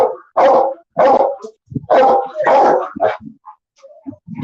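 Dogs bark repeatedly at an animal shelter in Honolulu, loud close bursts of barking in quick clusters with short yips and whimpers between them, no talk over them.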